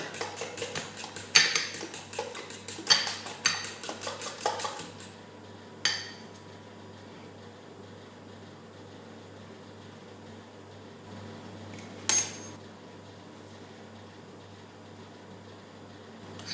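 A spoon clinks repeatedly against a bowl while a lightly sweetened glaze for a fresh loquat fruit tart is stirred, with a quick burst of taps early on and then a few sparse knocks in a quiet kitchen.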